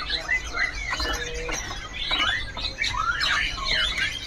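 Female ledekan gunung (mountain bird) calling in a shop setting, with repeated sharp, bright chirps and quick rising and falling whistled notes in irregular bursts over low background noise.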